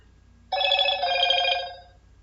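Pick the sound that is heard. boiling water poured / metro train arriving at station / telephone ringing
telephone ringing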